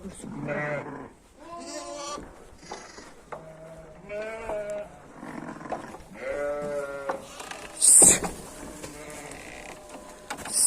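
A flock of sheep let out of their pen bleats repeatedly and close by, one wavering cry after another overlapping, with a sharp clatter near the end.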